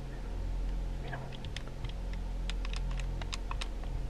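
Rapid keyboard typing, a string of light clicking keystrokes, close by over a steady low background hum.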